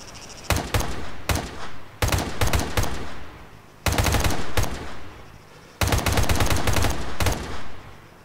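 Bursts of M4 rifle fire rattle out at live targets in Arma 3, loud, close automatic volleys in several separate strings of rapid shots, with short pauses between them and no talk.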